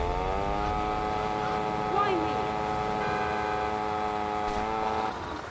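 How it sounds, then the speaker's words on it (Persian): Motorcycle engine in GTA Vice City during a chase, a steady droning whine held throughout at close range with a voice talking over it. "خب یه موتور رو میداریم میریم تعقیبش میکنیم."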